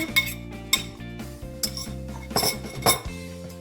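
Zucchini being added to dark chocolate cake batter in a bowl, heard as a few close clinks and knocks of utensil against the bowl over soft background music, with no talk.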